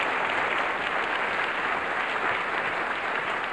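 Steady applause from an audience at a live 2001 auction of movie props and wardrobe, a dense, even wash of clapping holding at a constant level with no voices.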